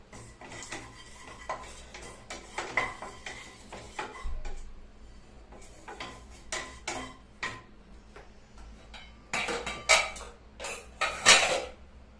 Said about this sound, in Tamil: கசகசா, இதெல்லாம் ட்ரையா ரோஸ்ட் பண்ணணுங்க.